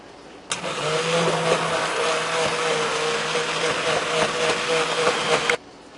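Immersion blender pureeing split pea and ham soup in a pressure cooker pot, a steady loud motor whir running about five seconds, starting and stopping abruptly, close with no talking.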